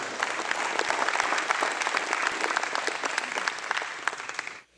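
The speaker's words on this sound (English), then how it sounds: "I think we need to give them a round of applause." An event audience gives the hotel staff and organisers a round of applause: full, even clapping for several seconds that cuts off abruptly at the end.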